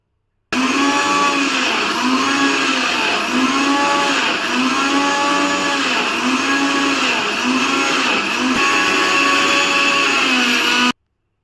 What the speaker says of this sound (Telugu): మూత పెట్టుకొని మిక్సీకి వేసుకుందాము.